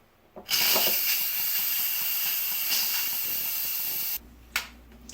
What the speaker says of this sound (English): Open the valve to release the steam.